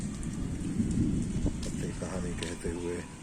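Steady rain pours outdoors with trees swaying as a storm arrives, a constant dense hiss with low rumbling underneath, while someone talks over it and birds chirp faintly in the background.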